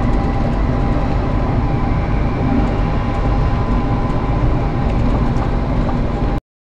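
Passenger train riding from Brisbane to Gympie North in Queensland, heard from inside as a steady, loud rumble of wheels and running gear with faint rail clicks throughout, no talking.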